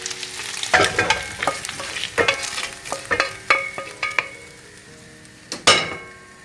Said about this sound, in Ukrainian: забуваємо перемішувати м'ясо